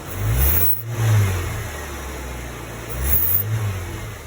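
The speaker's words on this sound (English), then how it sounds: "I just love the sound when you hear the air sucking in the engine" A 2015 Jeep Wrangler JK engine with a cold air intake revs up twice, rising and falling in low rumbling surges with a breathy intake whoosh, close by and with no talking.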